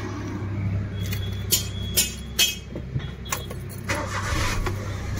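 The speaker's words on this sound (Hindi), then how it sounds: "यहाँ पे गाड़ी स्टार्ट होगा पेट्रोल में।" A company-fitted CNG Maruti Suzuki WagonR being started on petrol with the engine check light on: the engine cranks and settles into a steady low idle, with a few sharp clicks and key rattles near the start.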